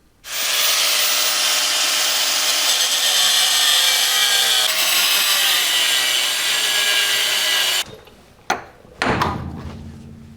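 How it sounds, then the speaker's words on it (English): A power tool cuts a weld nut off a Toyota truck frame, a loud, continuous high-pitched grinding whine for about eight seconds, then it stops abruptly and a few short metallic clanks and thuds follow. "So what we have to do is actually cut this weld nut off the frame to get this off."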